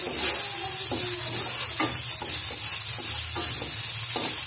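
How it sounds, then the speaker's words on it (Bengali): Potatoes with salt and turmeric fry in a pan, a steady close sizzle broken by repeated scraping stirs at irregular intervals, with no voices. "আলুটাকে ভালো করে ভেজে নেবো"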